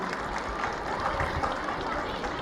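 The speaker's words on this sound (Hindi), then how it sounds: "जोरदार तालियों की गुजारिश for the beautiful demonstration" Crowd applause rises at an outdoor Independence Day celebration in Leh after a demonstration, a steady dense wash of clapping from many hands, moderately loud and continuous throughout.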